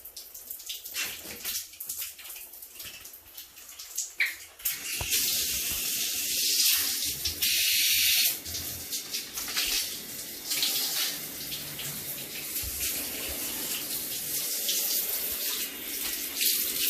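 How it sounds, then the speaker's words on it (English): Tap water runs to rinse a plastic shower floor mat, starting with some splashing and then becoming a loud, steady rush of flowing water that lasts to the end. "I'm gonna let it dry a little bit, and then I'm gonna rinse the floor."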